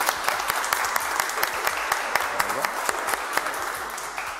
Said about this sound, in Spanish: le damos un aplauso que se caiga el teatro